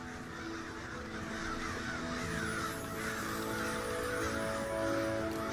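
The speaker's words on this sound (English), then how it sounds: "Crows fly." Crows caw repeatedly in a steady series of harsh calls over a continuous background of ambient sound, moderately loud with no speech.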